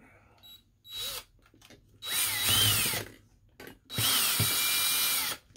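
Power driver running screws into a mini keg Bluetooth speaker build, three separate whirring bursts of rising and falling motor pitch, close and loud, with short pauses between them.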